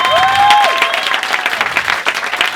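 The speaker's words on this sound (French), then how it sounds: "On applaudit super fort, Mélanie Crizy." A live comedy audience claps loudly and steadily after a sketch, a dense wash of applause that stays full for the whole moment, with a brief whistle-like tone near the start.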